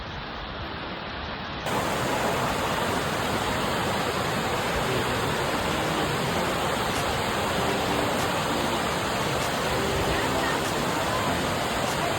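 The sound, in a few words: Egypt Falls waterfall, Cape Breton, Nova Scotia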